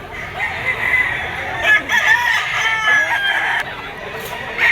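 A two-year-old straight sweater fighting rooster crows loudly at the Grotto pet market, its drawn-out calls rising and falling over a busy background of market chatter and other fowl.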